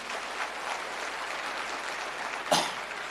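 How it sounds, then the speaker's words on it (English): Applause from an audience at an IYF Weekend Academy speech in Kenya, a soft, distant wash of clapping that holds steady, broken near the end by a single sharp cough or bump. "Why don't you give our Father God another big round of applause for blessing you?"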